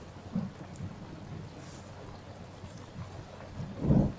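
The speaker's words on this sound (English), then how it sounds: "and the storms came," Thunderstorm with steady rain, low rumbles of thunder at the start and a louder roll near the end over continuous rainfall.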